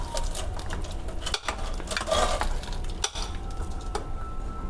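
Tempering of dry red chillies and curry leaves being stirred into cooked dal for one-pot Andhra-style sambar: steady scraping and clinking of a ladle against the pot, with a soft sizzle beneath, close and continuous.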